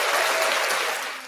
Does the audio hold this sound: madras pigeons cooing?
no